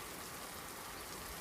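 Heavy rain pours steadily in an animated scene, a dense, even hiss of falling water with no pauses, loud and close.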